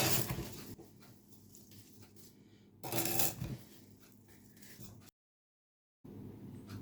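Chopped hot peppers and fruit are stirred together with sugar for hot pepper jam, giving a close, dry, granular rustling and crunching that swells in short bursts, then briefly cuts out.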